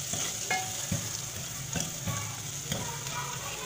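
Green chillies fry in a pan with a steady, quiet sizzle. Repeated spatula scrapes and taps keep a loose stirring rhythm throughout, with no talk.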